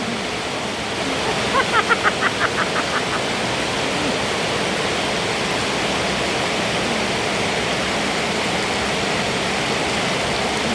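Steady broadband rain falling across the whole stretch, a dense continuous hiss like a downpour on water or open ground, with a brief burst of rhythmic frog-like croaks near the start.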